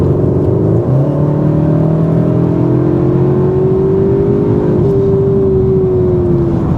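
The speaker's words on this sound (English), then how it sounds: "Okay, so that's accelerating in Cupra mode." A 2025 CUPRA Formentor VZ3 333PS accelerating hard in Cupra mode, its engine note rising loudly and steadily, then dipping briefly at a gear change before climbing again, close and continuous with no talking.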